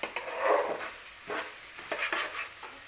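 A spoon stirs rice for beef dum biryani in a pot, making soft scraping strokes along the bottom. A few gentle sweeps come at an unhurried pace, quiet and close, with no voices.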